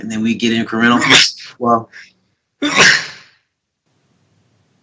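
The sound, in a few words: sneeze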